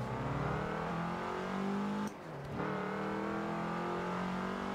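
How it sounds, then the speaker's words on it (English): Porsche 911 Turbo engine in the racing game Forza Horizon 4, droning loud and steady at high revs, dropping briefly for a gear change or lift-off before climbing back to a sustained, buzzy whine. "Sounds like a four-cylinder."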